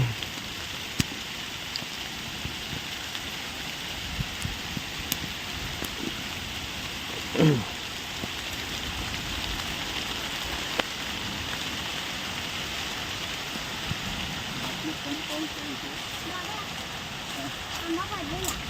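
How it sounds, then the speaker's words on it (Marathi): Rain patters steadily across a Konkan mango orchard at the start of the monsoon, an even hiss of drops on surfaces with a brief louder rustle partway through. "चला पाऊस आला"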